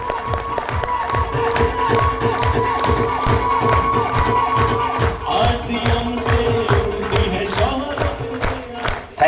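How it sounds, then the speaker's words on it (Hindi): Seminar audience in Ahmedabad bursting into sustained applause and cheering, loud dense clapping with shouts throughout, the crowd noise shifting partway through as voices rise above it. "एक बार इस मेहमानों का दिल से शानदार शानदार तालियों से स्वागत"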